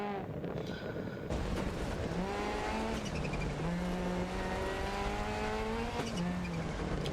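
A Ford Focus rally car races flat out on a gravel stage in Argentina in Dirt 2.0, its engine loud and close, revving steadily and rising and falling through gear changes with light tire noise underneath.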